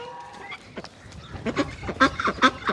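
Ducks quack and honk nearby in scattered short calls, growing busier toward the end.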